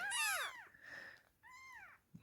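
A tiny kitten being syringe-fed gives three high, thin meows with short pauses between them, the first the loudest, all close and fairly quiet with no talk over them.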